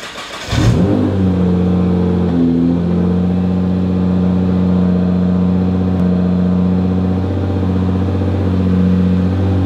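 A Nissan GT-R engine idles steadily up close, a low continuous hum with a brief rev near the start and no talking.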